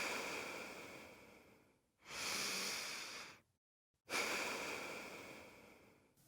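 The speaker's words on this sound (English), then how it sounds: "So now take another couple of deep breaths here." Slow, deep breaths at a calm pace during a children's relaxation exercise: a long soft exhale, then a fuller inhale, a brief silence and another long breath out, close and gentle.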